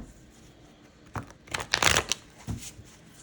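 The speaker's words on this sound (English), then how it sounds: "I'll shuffle with each of them and drop my commentary on it." Trimmed tarot cards with thin, flexible cardstock shuffled overhand by hand, producing a few soft, quick riffling bursts of papery flicking close by, with quiet pauses between them.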